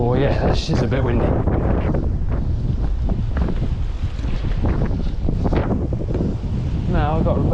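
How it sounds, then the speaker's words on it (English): Strong coastal wind buffets the microphone on a rocky shoreline fishing spot, a loud constant roar, while a voice speaks intermittently over it. "that's just a bit windy"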